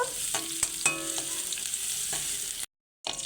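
Crushed garlic and chopped dried red chillies fry in hot oil, a close, steady crackling sizzle with a few sharper pops and a brief stirring clink before it cuts out.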